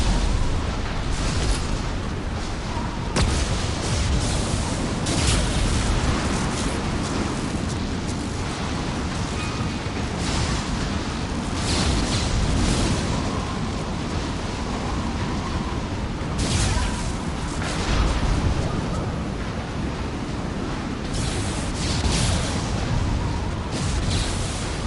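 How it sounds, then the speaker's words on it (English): Loud, dense bursts of flashbang explosions and combat noise in the video game Mass Effect 2, rolling continuously with repeated sharp blasts throughout. "Watch out, flashbangs."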